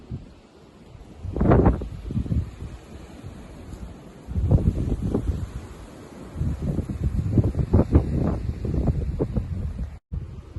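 Strong wind in a snowstorm buffets the microphone in heavy, uneven gusts, roaring loudly in several surges with brief lulls between.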